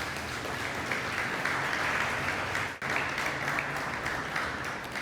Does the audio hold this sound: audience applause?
yes